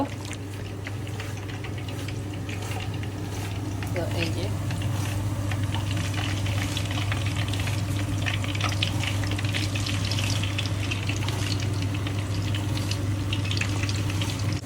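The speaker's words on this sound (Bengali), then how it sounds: "তেল একদমই গরম হয়ে গেছে এখন আমি দিব এক একটা করে" Marinated seekh kebabs go one by one into hot oil, raising a steady, loud, close sizzle and bubbling that runs unbroken, with a low hum underneath and a voice talking over it.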